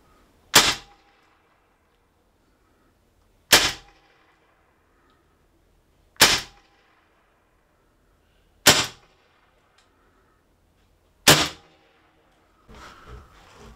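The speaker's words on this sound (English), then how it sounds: "First five shots." Five shots from an HDR 68 revolver, each a sharp loud crack evenly spaced about two and a half seconds apart in otherwise near silence, followed by a faint rustle at the end.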